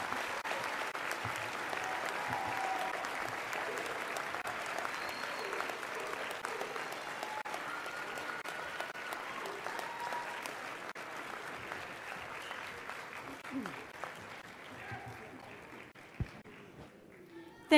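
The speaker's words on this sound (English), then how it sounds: "give them a round of applause" An audience at a college commencement ceremony applauds in a large crowd, a sustained wash of many hands clapping that holds steady and slowly thins toward the end, with scattered voices under it.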